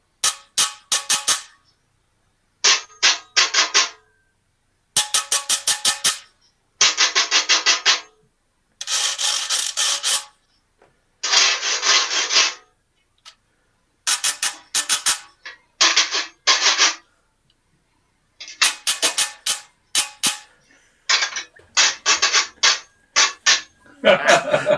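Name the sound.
cheese grater played as a guiro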